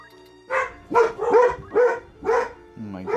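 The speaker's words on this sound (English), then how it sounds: "Sorry for the barks." A dog barks five times in quick succession indoors, sharp loud yaps with short gaps between them, followed by a brief voice at the end.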